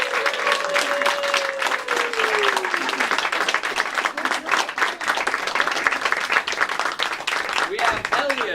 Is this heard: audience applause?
yes